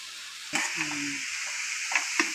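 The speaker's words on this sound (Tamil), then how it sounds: "நல்லா தேங்காய் போட்டு கிளறிட்டு" Banana stem stir-fry with grated coconut being stirred in a pan, a soft steady sizzle with a few sharp scraping clicks of the spoon against the pan, close and alone.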